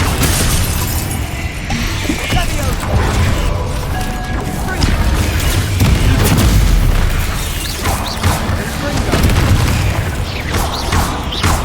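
Blasting and fire spells from a wizarding video game boom and crash repeatedly over a continuous roar of combat noise, with shattering impacts and loud bursts packed closely throughout.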